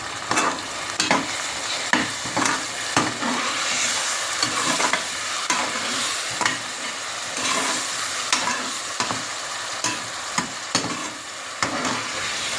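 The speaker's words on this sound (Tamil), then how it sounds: "இப்போ இஞ்சி பூண்டு பேஸ்ட் போட்டுக்கோங்க. போட்டுட்டு நல்லா வதங்கும்." Ginger garlic paste sautéing in a pan for chana biriyani: loud, close sizzling with repeated scraping stirs in an uneven rhythm, no voices.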